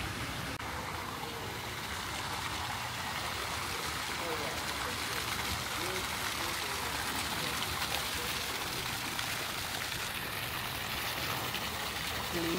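Clear stream water flowing in a steady, continuous wash, fairly faint and even throughout with no breaks, a soft broadband rush.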